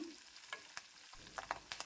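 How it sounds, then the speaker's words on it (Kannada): Quiet sizzle of ground fenugreek powder frying in hot oil with garlic in a pan, with soft scattered stirring scrapes and crackles. "ಇದನ್ನು ಒಂದು ನಿಮಿಷ ಫ್ರೈ ಮಾಡ್ಕೊಳ್ಳೋಣ"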